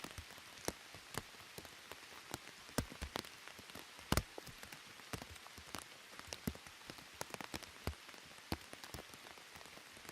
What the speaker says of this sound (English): it's just going to pour down